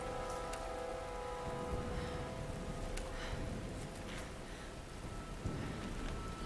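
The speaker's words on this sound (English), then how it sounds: "Hey, it's the rain." Steady rain patters on surfaces in the Tomb Raider video game, a constant hiss with scattered nearer drips and a low rumble beneath.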